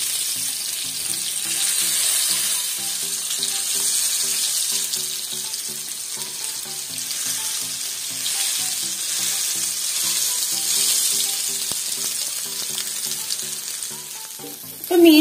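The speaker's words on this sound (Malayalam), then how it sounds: "ഇപ്പൊ മീനെല്ലാം നന്നായിട്ട് ഫ്രൈ ആയിട്ടുണ്ട് ട്ടോ എല്ലാ വശവും ഞാൻ ഫ്രൈ ചെയ്ത് എടുത്തിട്ടുണ്ട്" Fish pieces fry in hot oil, giving a steady, close crackling sizzle that runs evenly throughout, with a short clatter at the very end.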